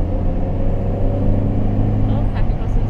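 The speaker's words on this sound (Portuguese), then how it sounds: "carro que passou na sua frente" A car passes by on a Brazilian road while heard from inside a moving Renault Clio 1.6 16V, a continuous loud low road rumble with a brief swell as the vehicle goes past.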